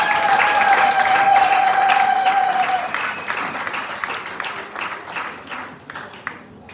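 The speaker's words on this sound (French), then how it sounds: "Ça mérite les acclamations, s'il vous plaît." Loud audience applause and cheering at a 20th wedding anniversary celebration in Benin, dense clapping throughout that thins out toward the end, with a sustained whistle or cheer over the first few seconds.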